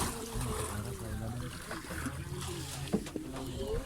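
A boat's motor drones steadily at close range over lapping, splashing water, while people talk over it for the whole stretch, out on the water where a swimmer dives to look for kapis shells.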